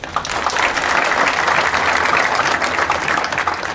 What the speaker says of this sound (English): we can give a round of applause for Davis